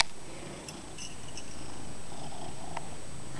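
A cat purrs quietly and continuously up close, a soft low rumble with a faint rustle or two, no talking.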